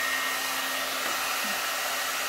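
A SUTRA blowout brush, a heated hot-air styling brush, runs with a steady, close whooshing blower roar, unbroken and even from start to finish, with no voices.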